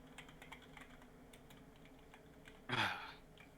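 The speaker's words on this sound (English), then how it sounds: "Sorry, I'm typing it out." Rapid keystrokes on a computer keyboard during an online tabletop role-playing session, a steady patter of light clicks ending in a louder burst of keys near the close, with no talk.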